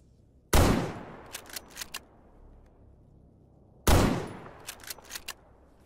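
Two loud, sharp gunshots about three seconds apart in the video game S.T.A.L.K.E.R. GAMMA, each ringing out and followed by a few quick, quieter metallic clicks.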